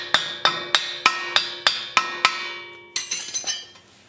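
A hammer strikes a stuck ball joint on a Honda Element or CR-V front lower control arm: eight evenly spaced sharp metallic clangs ring out, followed by a quicker burst of lighter blows, close and loud.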